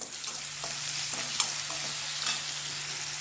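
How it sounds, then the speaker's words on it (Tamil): Sliced onions sautéing with salt in a pan for channa masala, a steady close sizzle with occasional stirring clicks and one sharper tap, no voices. "இப்போ நல்லா வெங்காயம் வதங்கட்டும்"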